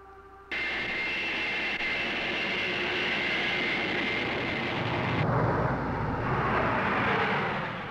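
A remotely piloted F-86H jet accelerates down the runway on takeoff, its engine a loud, steady roar that bursts in abruptly and holds strong throughout, with a broad rushing whine rising slightly near the end.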